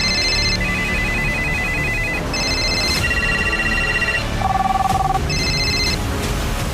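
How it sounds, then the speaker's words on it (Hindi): Several telephones ringing over one another, electronic ringtones in repeating bursts of different pitches overlapping in a busy, continuous jangle, close and fairly loud with no talk. "फोन की घंटियां बजने लगी"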